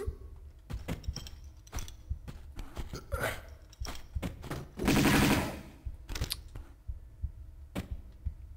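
Lara's twin pistols in Tomb Raider II Remastered firing in quick irregular volleys of sharp pops, closely spaced, with a louder, denser burst of game noise midway, heard alone without talk.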